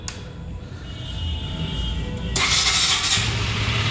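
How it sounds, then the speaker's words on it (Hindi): A 2023 KTM Duke 125 motorcycle engine cranks and fires up, then settles into a loud, steady running rumble up close with a brighter, noisier exhaust note. "ये बाइक स्टार्ट हो गई है KTM डुक 125"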